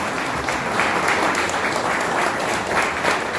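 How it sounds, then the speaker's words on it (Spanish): An audience at an economics talk series applauds to welcome the speakers, a loud, dense burst of clapping with a slight swell in the middle, lasting a few seconds. "les pido que reciban con un aplauso a Jorge Pasi y a Oscar Lieberman."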